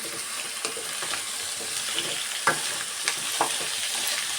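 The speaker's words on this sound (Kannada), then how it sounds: "ಆಯಿಲಲ್ಲಿ ಸ್ವಲ್ಪ ಫ್ರೈ ಮಾಡ್ಕೊಂಬಿಡ್ಬೇಕು ಚೆನ್ನಾಗಿ" Pumpkin pieces stir-frying in oil make a steady crackling sizzle, broken by repeated scraping stirs of a utensil against the pan at a loose rhythm, close and with no talking.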